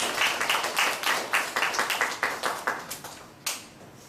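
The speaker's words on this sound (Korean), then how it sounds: "우리 박수로 환영합시다." An audience at a church creation-science seminar claps to welcome a speaker, a brisk run of close, sharp hand claps that slowly thins and fades, ending in a final few scattered claps.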